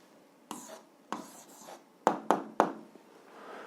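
A pen writes an algebra answer on paper in a quiet room: a handful of short, crisp strokes, the last three coming in quick succession.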